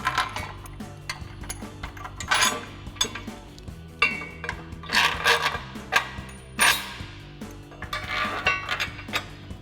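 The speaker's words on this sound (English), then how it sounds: "Slide a bolt with a flat washer on it." Bolts fitted with flat washers slide through the hitch and rear bumper of a Jeep Wrangler JK during install, giving repeated light metallic clinks and scrapes in short bursts at close range, with no talking.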